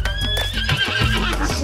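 A horse neighs in a GTA 5 video game, a loud, shaky whinny rising and falling over about a second and a half, with a hint of hoof clip-clop beneath and no talking.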